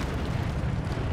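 A fiery Incendio spell bursts in Hogwarts Legacy, a dense, roaring low rumble like a sustained eruption filling the whole moment, loud and steady without a distinct sharp onset.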